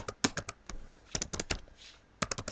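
Fast, light clicking of a computer keyboard being typed on in quick irregular bursts with short pauses, close and quiet, with no talking.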